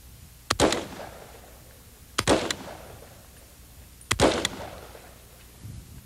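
A semi-automatic hunting rifle fired single rounds outdoors, three sharp, loud cracks spaced about two seconds apart, each followed by a short rolling echo.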